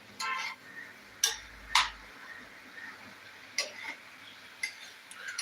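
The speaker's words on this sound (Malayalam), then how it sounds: "പിന്നെ നന്നായിട്ടൊന്ന് ഇളക്കി കൊടുക്കുക" Egg curry being stirred in an iron pan: sparse metallic scrapes and clinks of a spoon against the pan, a handful of sharp taps spread irregularly over a quiet background.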